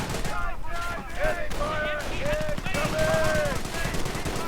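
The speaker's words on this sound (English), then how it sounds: "Lots and lots of Bren fire." Bren machine gun fire rattles in bursts during a World War II strategy video game battle, layered with other gunfire and battlefield noise, while a commentator talks over the action.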